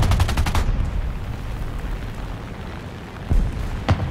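Gunfire rattles in War Thunder ground realistic battle: a rapid automatic burst at the start, then a lull of rumbling background, followed by two sharp single shots near the end, close and loud.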